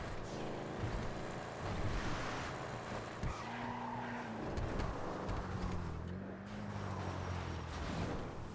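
Benny's Sabre car in a video game brakes hard and skids, with tire squeal and engine revving over a continuous car noise, moderately loud and close.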